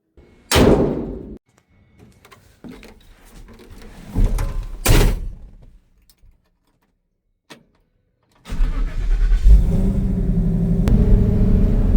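1965 Ford F100 pickup with a swapped-in Coyote V8, heard from inside as doors thunk shut, then the engine starts and settles into a steady, fairly loud running drone for the last few seconds.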